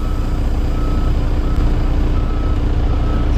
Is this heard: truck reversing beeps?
yes